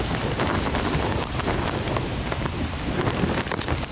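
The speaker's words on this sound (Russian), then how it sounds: "Скамейка мокрая, дождь идет." Rain falling outdoors onto a wet park bench and surroundings, a dense, steady patter with scattered sharper drops and some wind noise, continuous throughout.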